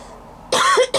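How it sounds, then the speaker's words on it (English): Two sharp, close coughs in quick succession after a quiet moment. "I told you I'd cough after I drank that"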